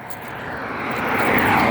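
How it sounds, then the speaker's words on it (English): A car approaches along a roadside where a sound barrier wall has been removed. Its broadband road rumble swells steadily louder as it draws near, with no voices. "So let me slide over because I hear a car coming."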